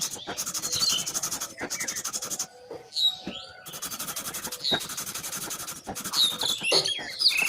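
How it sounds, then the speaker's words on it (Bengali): A hand rubs a ceiling fan rotor clean, repeated scratchy scrubbing strokes in bursts with short pauses between them, close up, with faint bird chirps in the background and no talk. "আমরা খুব সুন্দরভাবে এটাকে আমাদের ঘষে ঘষে পরিষ্কার করে নেব।"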